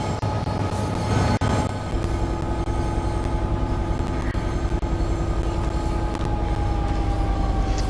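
Network Rail head treatment train hauled by Class 66 locomotives, a steady loud diesel rumble with droning engine tones and rolling rail noise from inside the cab, continuous throughout with no talking.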